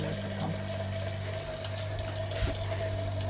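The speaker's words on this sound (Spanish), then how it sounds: "Esa es la bomba de agua que está afuera, pero aún así se escucha." A water pump running outside a converted Mercedes 508 bus gives a steady mechanical hum with a constant tone, moderately loud and continuous, with a few faint knocks and no talking.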